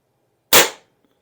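A single sharp, loud crack from an Aselkon MX7s subcompact .25 caliber bullpup air rifle, close and alone, fading quickly into silence.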